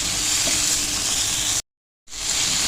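Green chillies frying in hot oil, with lemon in the pan, a dense continuous sizzle that cuts out briefly before resuming.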